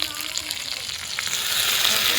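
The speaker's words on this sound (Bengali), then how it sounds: "এবার খুন্তি করে ভালো করে নেড়ে নেব।" Coriander chutney sizzles gently in a pan as a spatula stirs it, giving a soft, steady frying hiss with faint scraping, and no talk over it.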